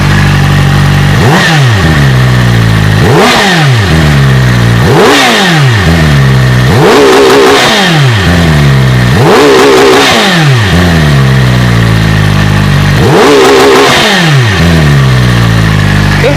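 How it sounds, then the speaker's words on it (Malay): A loud QJMOTOR SRK450RR inline-four 450 supersport motorcycle engine revs repeatedly, about six sharp throttle blips rising and falling over a rumbling idle, close up. "Jom kita rev sikit motor ni"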